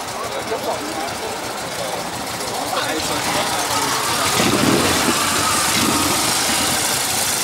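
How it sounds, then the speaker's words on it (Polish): A small old classic car engine idles with a steady rumble that grows slightly louder and fuller as the vehicle starts to pull away nearby at a classic car meet. "O, Maluszek będzie właśnie wyjeżdżał."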